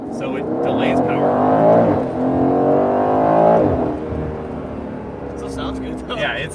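A 2021 Aston Martin Vantage Roadster accelerates hard off the line under launch control, engine note rising through gears with a loud, close roar, and people talk over it.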